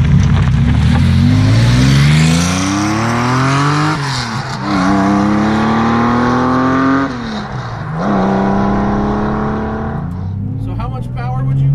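Loud rat-rodded 1970 Porsche 911 race car with no interior accelerating hard through repeated rising gear pulls, engine note climbing then dropping at each shift, close and continuous.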